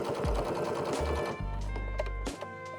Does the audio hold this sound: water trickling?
no